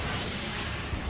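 Rockets being fired in the shooter game Destiny, heard as a short, dense, loud roar of blasts and rumble right up close.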